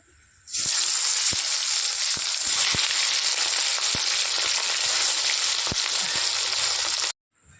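Whole fish rubbed with turmeric and salt hits hot oil, starting a loud, dense, steady sizzle that runs close and continuous for several seconds before cutting off abruptly.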